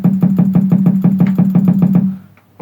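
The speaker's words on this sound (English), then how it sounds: "I already have a conga loaded." A conga sample loaded in FL Studio for a Nigerian shakushaku afropop beat plays about a dozen evenly spaced, punchy low drum hits in a steady run lasting two seconds, then stops abruptly.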